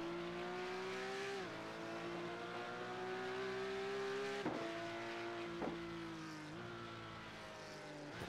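Porsche 911 GT3 Cup engine in the iRacing simulator at the Nurburgring 24h, a loud sustained high-revving whine bouncing off the rev limiter with several abrupt cuts and dips as the revs fall and climb again.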